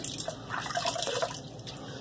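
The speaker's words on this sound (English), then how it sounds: "I'm going to put some water on my face again." Water splashed onto a face while shaving at a sink, a soft run of wet splashes and drips over about two seconds, close and moderately quiet with no talking.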